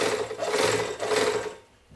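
A GN-2 overlock sewing machine, restored after being bought at a flea market, stitches steadily in a continuous fast whirring run that stops near the end, leaving a quiet tail.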